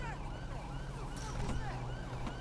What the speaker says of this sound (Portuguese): O ambulância chegou e agora é com eles.